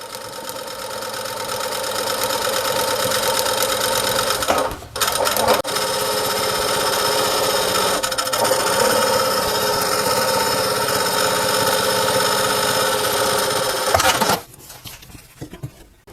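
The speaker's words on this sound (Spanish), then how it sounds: "voy a poner la orilla del prensatela en la costura y voy a volverle a pasar la máquina" A sewing machine runs steadily along the seam of a fabric welding cap, a close, continuous mechanical whir with a brief pause near the middle before stopping toward the end.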